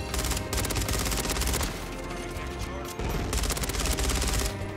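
Rapid sustained bursts of ISO 9mm submachine gun fire in Call of Duty: Modern Warfare III, loud and dense, with a brief lull before the firing resumes.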